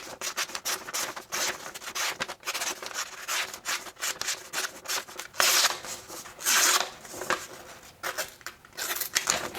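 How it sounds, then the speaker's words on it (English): A Civivi Elementum Button Lock folding knife slicing through paper, giving a run of rapid, raspy scraping strokes, close and fairly loud, with brief pauses between cuts and no talking. "I'm running out of paper here, trying to give it a good cutting angle"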